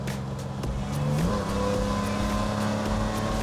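Engine of an old fiberglass classic sports car running steadily on a private road, a constant low hum with a slight pitch rise as it revs, loud and close throughout.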